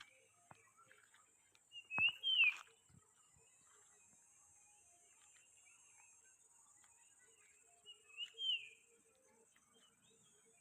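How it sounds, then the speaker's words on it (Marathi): Birds around a Konkan village give two faint, brief chirps several seconds apart, heard at a distance over a steady background of crickets and insects. "आजूबाजूला पण पक्ष्यांचा आवाज येतो आहे"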